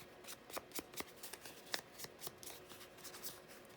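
Scissors snip through paper for an ephemera project, a run of about a dozen quiet, crisp cuts in an uneven rhythm, heard up close with no talking.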